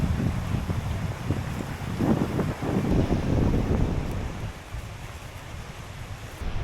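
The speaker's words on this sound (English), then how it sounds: "that's why it's pretty windy and it's kind of on-off rain today" Wind blowing outdoors on a gusty day of on-off rain at the start of the rainy season, a steady broadband rush that swells around the middle and eases slightly toward the end, with no voices.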